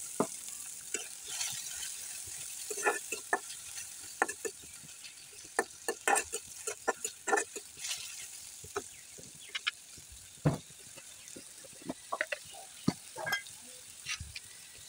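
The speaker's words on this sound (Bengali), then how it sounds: "পেঁয়াজ কুচিটাকে আমি ভালোভাবে করে ভেজে নিব।" Chopped onion frying in a little oil while being stirred, a steady faint sizzle broken by frequent sharp clicks and scrapes of a utensil against the pan, no voices.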